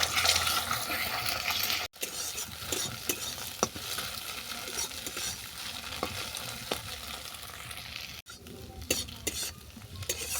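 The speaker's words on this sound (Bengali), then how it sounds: "কোনোতে সাদা তেল দিয়ে ডিমটাকে ঝুড়ো করে নেব" Egg scrambles in white oil in a wok, a dense continuous sizzle with scraping stir strokes and brief drops in the hiss, close and loud with no voices.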